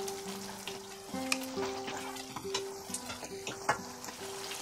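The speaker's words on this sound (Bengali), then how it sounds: "কাসুরি মেথি দেওয়ার পরে আমি 2-3 মিনিট এটাকে একটু মিডিয়াম টু হাই ফ্লেমে ফুটিয়ে নিলাম" Chicken gravy with kasuri methi bubbling on a medium-high flame, a soft continuous sizzle and gentle popping broken by light spoon scrapes and taps, fairly quiet and close, no talking.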